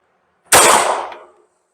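A single sharp shot from an Arex Zero 2 9mm handgun, fired as the final round of a string at a range. A loud crack is followed by a short, fading echo, then silence.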